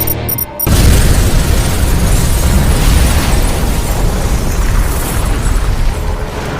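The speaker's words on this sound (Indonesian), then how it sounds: "Robert lebih dulu meledakkan bom yang sudah ia aktifkan" A bomb detonating in a sniper revenge action film: after a brief quiet start, a huge explosion erupts and roars on as a loud, sustained rumbling blast.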